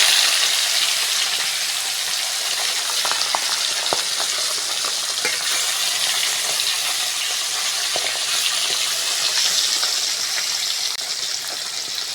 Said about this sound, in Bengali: মাছ ভাজার জন্য কড়ার মধ্যে সরষের তেল দিয়ে দেবো।